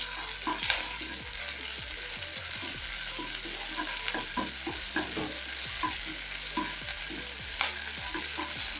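Pepper being stirred into a sausage pasta sauce frying in a pan, with a soft continuous sizzle and repeated scraping strokes of the spoon, close and quiet, without any talking.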